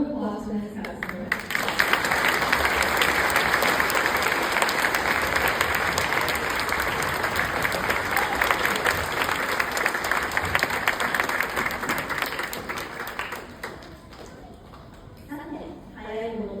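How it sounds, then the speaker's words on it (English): Sustained, loud applause from a large audience fills a school Japan Day festival in Tokyo, building quickly and rolling on steadily for over ten seconds before tapering, with speech heard at the start and end. "Can we have another round of applause for this festival?"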